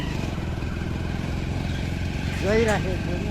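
Steady motorcycle engine drone with a rhythmic low putter while riding across the Susta Bridge in Nawalparasi, and a brief voice breaking in near the end.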